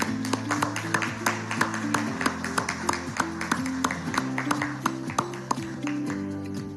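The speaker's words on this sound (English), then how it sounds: "Round of applause, please." Clapping from a live press conference audience for a rehabilitated home buyer, scattered and fairly light, heard under a sustained musical tone and some faint background voices.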